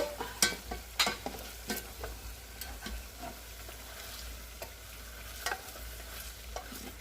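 Onions and garlic sauté in a pan with a steady low sizzle, broken by scraping stirs that are louder near the start and fade toward the end.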